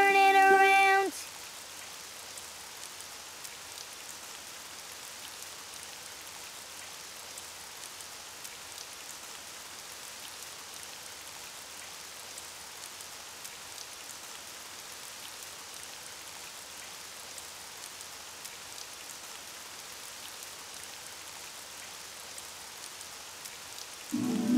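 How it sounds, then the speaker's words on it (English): Steady rain falls outside as an even, continuous hiss that lasts throughout, with a brief musical sound at the very start and end. "Oh, it's raining outside."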